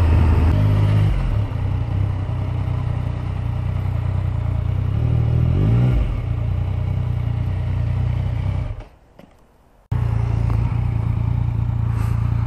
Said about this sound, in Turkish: rüzgar sesini kesersem bu sefer egzoz sesi hiç gelmeyecek